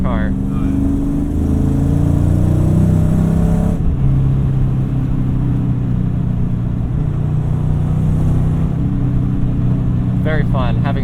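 A 1996 SN95 Mustang GT V8 pulls through its mid-range under steady, loud engine drone, the pitch climbing and then holding, with someone talking over the engine noise from inside the car.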